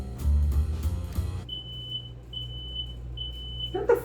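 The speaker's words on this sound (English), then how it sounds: "Is that the fucking smoke alarm, bro?" A household smoke alarm chirps in short, evenly spaced high beeps, about four of them, clear in a quiet room after a burst of loud game-like noise at the start.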